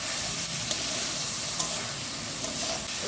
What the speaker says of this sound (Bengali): নাড়াচাড়া করে একটু ভেজে নিতে হবে, খুব বেশি ভাজতে হবে না